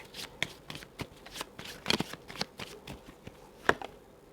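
Zodiac oracle cards being shuffled up close, a run of quick papery riffles and soft slaps in an uneven rhythm, with one louder snap near the end.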